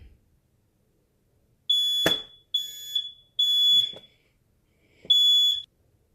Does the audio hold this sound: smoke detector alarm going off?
yes